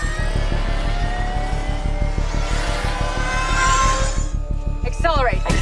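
A vehicle engine rises in pitch as it accelerates in a film scene, a steady loud mechanical drone with climbing tones under a musical score.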